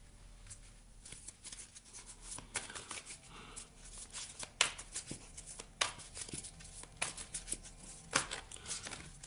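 Tarot cards are shuffled and handled up close, producing a stream of quick papery riffles, flicks and soft slaps at an irregular pace, moderately quiet with no talking.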